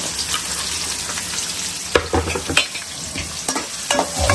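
Onions sauté in a hot pan with a steady, dense sizzle, broken by a few sharper stirring scrapes and clacks of a utensil, close and clear with no voices.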